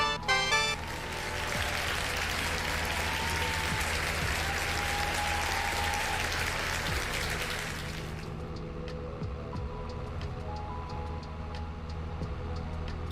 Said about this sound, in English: Big old round of applause for Talgar and his super chat.